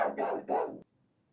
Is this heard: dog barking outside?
yes